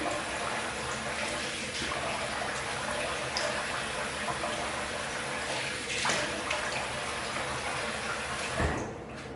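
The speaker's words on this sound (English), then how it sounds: "Right, we'll rinse it off." Water running from a tap while shaving lather is rinsed off, a steady hissing splash that continues throughout with small clunks and a brief louder splash near the end.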